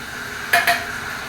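A big spoon scrapes twice against a pan while skimming impurities off melting butter, with two short metallic strokes over a low background hiss.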